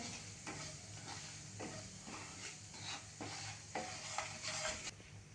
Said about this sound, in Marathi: थोडासा हा परतून घेऊया तेलामध्ये